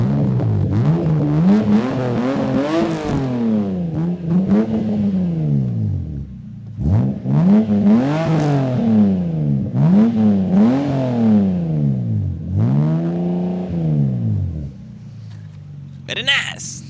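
A Lexus SC300 drift car's engine revs repeatedly, each deep exhaust note rising and falling in a steady series of blips, loud and close, with a brief sound near the end.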